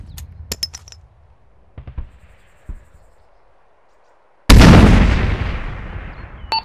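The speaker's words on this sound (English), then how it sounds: "Throwing a grenade on the southeast corner." A grenade detonates in Arma 3 during an infantry town assault: a few scattered distant shots and thuds, then a sudden loud blast that rolls off in a long rumbling decay.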